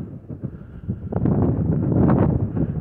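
Gusty, cold wind at the Mesa Verde National Park cliff dwellings buffets the microphone, rumbling low and building louder in the second half, with a steady roar and no voices.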